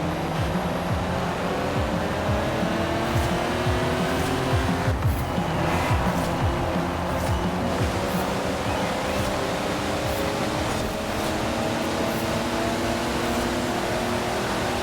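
A GMC Typhoon SUV races against 90s sports cars in Forza Horizon 4, its engine a loud, constant roar with rushing road noise throughout and no break.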